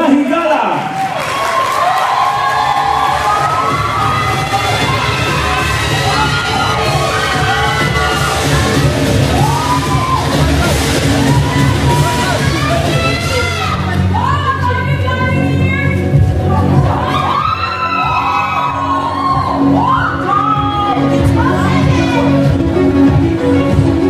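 Pageant audience applauding and cheering for a contestant in futuristic attire at the Mr. Cagayan de Oro 2024 pre-pageant, a loud continuous wash of clapping, whoops and shouts running throughout, with voices mixed in.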